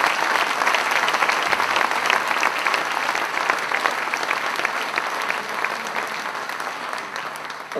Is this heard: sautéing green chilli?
no